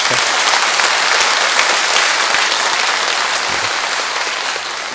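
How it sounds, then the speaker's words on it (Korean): Steady, dense applause from a church congregation welcoming visiting tourists at Sinjeju Cathedral during a Gregorian Mass, sustained and fairly loud throughout before easing slightly at the end. "우리 이분들을 위해서 환영의 박수를 보내시죠"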